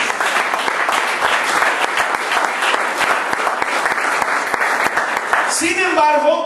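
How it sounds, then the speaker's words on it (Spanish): A church congregation gives a long, dense round of applause that fills the room steadily at close range, with a voice briefly heard near the end. "Ofrenda de aplausos al Señor,"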